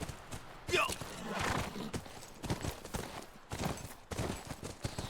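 A horse's hooves clip-clop in The Last of Us video game, with a high whinny near the start and irregular hoofbeats throughout, under someone talking.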